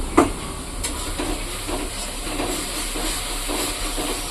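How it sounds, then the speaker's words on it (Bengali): Spices frying in a pan for a festive-style meat dish, a steady close sizzle and hiss with a few faint stirring scrapes, no talking. "তো এই যে মশলাটা ভাজছি"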